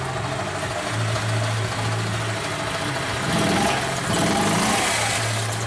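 An EZ-GO golf cart engine runs steadily at a low idle nearby, with a mid-pitched drone and a slight rise in level partway through, without talk.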